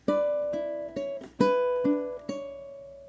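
Plucked ukulele notes ring out in a short phrase, about six clear attacks spaced unevenly, each sustaining briefly before the next.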